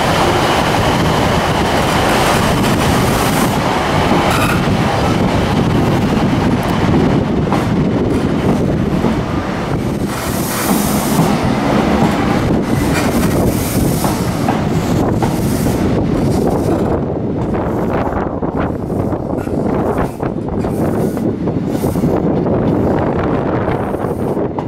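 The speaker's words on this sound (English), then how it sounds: "departing Exeter St David's for Newton Abbott on a First Great Western HST." A First Great Western HST train runs between Exeter St David's and Newton Abbot, a loud continuous rumble of wheels and engines with heavy wind buffeting throughout.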